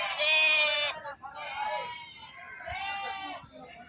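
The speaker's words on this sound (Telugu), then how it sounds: "పల్లా గొర్రెలు ఎక్కువ కనిపిస్తున్నాయి" Sheep at a sheep market in Gudur bleat three times in quick succession, loud and close, the first call strongest, with quiet background noise between.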